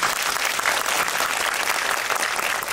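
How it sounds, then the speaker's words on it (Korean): Applause at a Korean film screening talk event for Harbin: a hall audience claps steadily and densely for a few seconds with no speech. "편집장님께 박수 한번"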